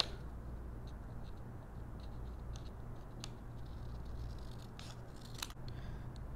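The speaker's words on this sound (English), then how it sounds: "So I just cut along my traced lines" Scissors cut along traced lines on paper, making soft, close snips and rustles in an uneven rhythm against a quiet background, with no speech.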